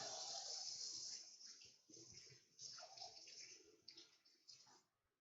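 Running tap water rinses sticky hands after peeling tomatillos in a home kitchen, a steady gushing splash that breaks into uneven spatters and drips as the hands move through the stream before the flow stops.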